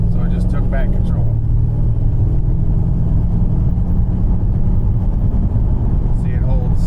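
A Pontiac GTO on the road with its automatic transmission shifting down by itself; a continuous low engine drone and road rumble runs throughout, with a person talking over it.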